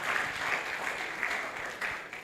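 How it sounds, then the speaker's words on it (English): Audience at the Rethink Africa 2025 celebration keeps up steady, moderately loud clapping throughout, a dense even wash of hands from a crowd. "clap for us"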